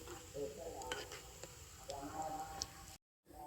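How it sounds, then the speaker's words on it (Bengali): Sweets frying in hot oil while being stirred with a spatula, a soft steady sizzle with light scraping and stirring sounds, quiet and close, under a speaking voice. "এবার আমি খুন্তি দিয়ে এইভাবে নাড়াচাড়া করব, তা না হলে এক সাইডে বেশি ভাজা হয়ে যাবে"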